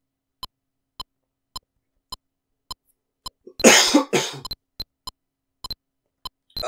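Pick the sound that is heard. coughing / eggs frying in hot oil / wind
coughing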